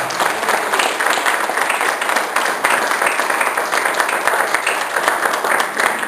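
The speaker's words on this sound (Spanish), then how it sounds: "A todos ellos pido un aplauso y presente fundamentalmente" An audience applauds at a tribute event with dense, steady clapping that holds at an even, fairly loud level throughout, with no break or fade.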